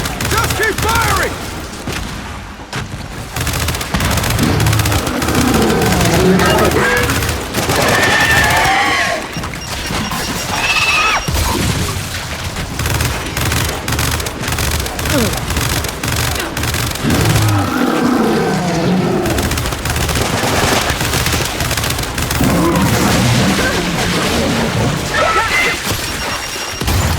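Sustained gunfire and crashing impacts fill a Gears 5 battle with a carrier creature, loud and continuous with rough, heavy swells as it bursts apart, while combat voices shout over the din.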